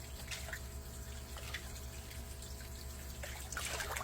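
Animals splash hard in water as they go after food that has been tossed in, a close, continuous churn of watery slaps and trickles with a few sharper bursts, and no talking over it.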